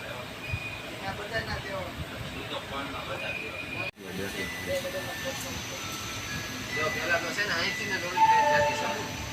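Train standing at Dhasa junction, with a soft hiss and rail rumble under frequent talk from people nearby.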